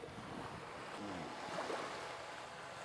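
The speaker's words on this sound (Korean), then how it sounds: "파도 소리 너무 듣기 좋다" Ocean waves break on a beach, a soft, continuous wash of surf with gentle swells and some wind rumble on the microphone, heard at a moderate distance with no talking over it.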